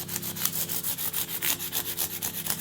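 Fine sandpaper rubbed gently up and down a Telecaster guitar fretboard, making a regular, close scratchy swish in even back-and-forth strokes with no speech.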